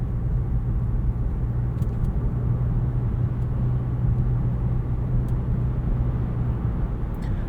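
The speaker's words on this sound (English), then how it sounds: "this engine just kind of idles along in normal traffic" A 2024 Nissan Altima 2.5 SL AWD engine idling along in normal traffic, a smooth, steady low hum and rumble heard from inside the cabin, constant throughout with no talking.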